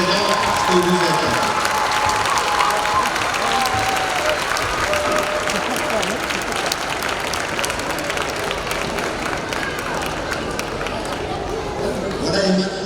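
Dense, sustained applause from an audience at a prize ceremony, with crowd chatter and cheering mixed in, loud and continuous throughout without a break.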